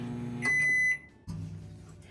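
A microwave oven warming ghee hums with a low steady drone, broken by a short high electronic beep that sounds once before the hum returns.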